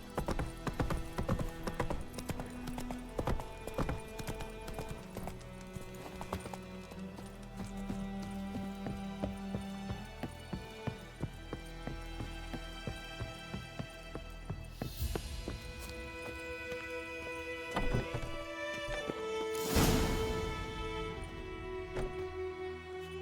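Roach, a horse in The Witcher 3, gallops with steady rhythmic hoofbeats over game music, a near clip-clop pattern that runs the whole stretch, with a brief neigh or swell near the end.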